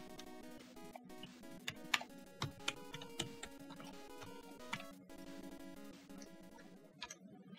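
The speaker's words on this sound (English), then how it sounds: "Did you hear me typing?" Typing on a computer keyboard during a Roblox game session: light, irregular key clicks tapping over steady game music, close and fairly quiet, with a few sharper keystrokes standing out.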